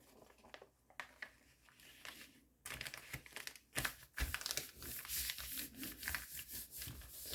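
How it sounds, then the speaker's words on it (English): Paper being folded down and smoothed during a Grinch book-folding craft, heard as close crinkling and rustling that grows louder and busier partway through, with soft creases and rubbing strokes. "very carefully fold that down"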